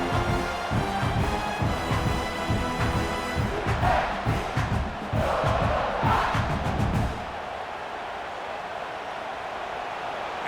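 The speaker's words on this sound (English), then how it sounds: "this crowd coming to life here, trying to help the defense get a stop with the offense pinned back" Video-game stadium crowd at a Clemson versus South Carolina college football simulation, a loud sustained roar that swells and surges for about seven seconds, then drops to a quieter murmur.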